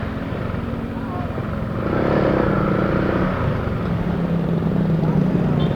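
A motorcycle engine idles and runs steadily while a woman is being taught to ride, a continuous close hum that swells slightly partway through, with people chatting over it.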